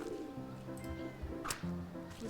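Birds in the video game Wytchwood give a few soft, low coos in quick succession, quiet and fairly close, with no talking over them.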